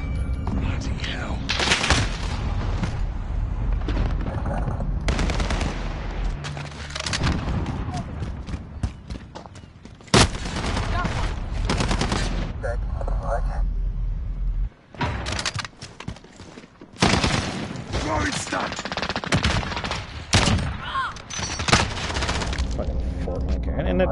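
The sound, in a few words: gunfire from the video game Call of Duty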